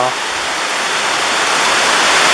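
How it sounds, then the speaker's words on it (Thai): Heavy rain pours down in a garden, a loud and steady hiss of water with no gaps, heard close up. "ฝนตกฝนตกมาแล้ว"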